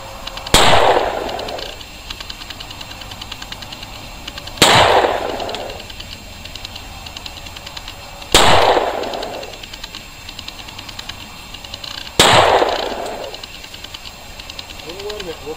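Four loud, sharp pistol shots from a Smith & Wesson M&P 40 2.0 fired outdoors in snow at a tree about 80 yards away, spaced roughly four seconds apart, each with a short echoing tail.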